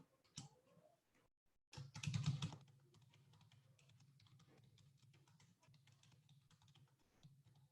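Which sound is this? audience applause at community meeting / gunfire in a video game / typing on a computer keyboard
typing on a computer keyboard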